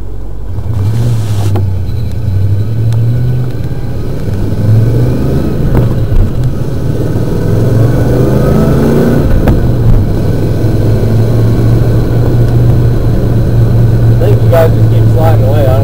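A small Mule utility vehicle drives along a back road near a power plant, its engine droning steadily up close with shifts in pitch as gears change roughly, and a person's voice talks over parts of it.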